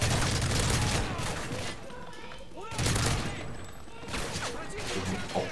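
Rifle fire in the Call of Duty Modern Warfare 3 video game, a German-made rifle, sounding as dense bursts of shots in two main volleys with a brief lull between, loud and close amid game sound.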